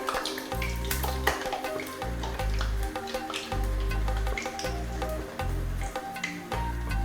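Mangalore banana buns fry in hot oil, giving a steady bubbling sizzle with soft squishy sounds. Rhythmic low thumps from a nearby appliance repeat underneath.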